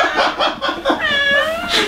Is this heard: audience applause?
no